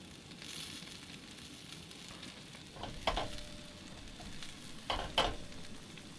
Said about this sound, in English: I'm going to toast them in the frying pan.